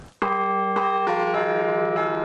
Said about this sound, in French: notre carillonneur possède en revanche l'oreille musicale pour extirper de ses trois cloches en airain les airs d'antan